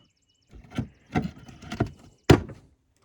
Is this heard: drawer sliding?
yes